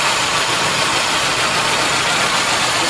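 Volkswagen Quantum with an automatic gearbox and a carburettor engine idles steadily after starting, a loud continuous mid-pitched running sound with no pauses or revving.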